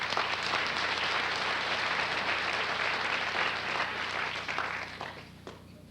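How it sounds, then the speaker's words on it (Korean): A church congregation bursts into celebratory applause for members heading off to and returning from military service, a thick, continuous roar of clapping in a large room that holds strong for several seconds before thinning and fading out. "한번 축하하는 그런 박수를 합니다"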